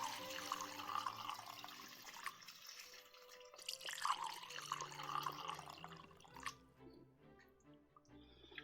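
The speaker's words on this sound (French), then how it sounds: "je vais venir mouiller avec mon bouillon de volaille" Chicken broth pours over split peas in a pot, a close, steady liquid splash and trickle that swells, then tapers into drips, with no talking.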